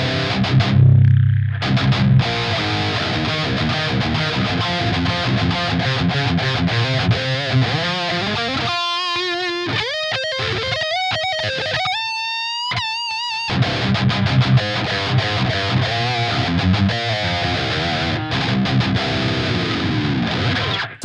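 Audio processed through the Aurora DSP Liver6 distortion plugin, loud and continuously fuzzy, with a passage of gated, stuttering tonal bursts in the middle before the dense distorted sound resumes.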